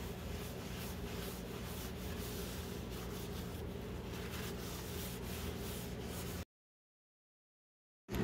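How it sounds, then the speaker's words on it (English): Cloth wiping back wax on an antique piece of furniture, a steady close rubbing and scrubbing texture that runs continuously, then cuts to silence near the end. "I wipe the wax back a little bit"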